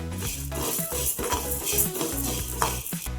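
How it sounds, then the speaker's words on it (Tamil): Urad dal flour is dry-roasted and stirred in a pan over a low flame, producing a steady, close scraping and rustling stir with a soft continuous hiss throughout. "அரை கப் எடுத்து வறுத்துக்குவோம் லேசாக இதான தீயில வச்சுக்கிட்டு வாசம் வர வரைக்கும் வறுக்கணும்"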